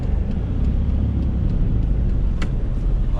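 A 2011 Tata Nano's engine drones at higher revs while driving, a loud, steady low rumble with road noise filling the cabin and a faint click or two on top.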